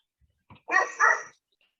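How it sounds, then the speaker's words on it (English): A dog at home gives a short, close bark-like yelp, two quick vocal bursts after a couple of faint sounds, then quiet. "Is that your dog?"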